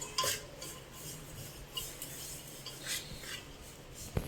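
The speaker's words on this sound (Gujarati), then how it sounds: "મમ્મીએ ગોળ નાખી દીધો ને હલાવી નાખશે કા?" A spoon scrapes and stirs through jaggery in a pot, making a steady, soft gritty swishing with a few sharper knocks against the metal.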